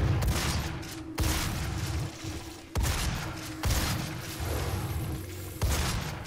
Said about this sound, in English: Man, this shotgun's amazing.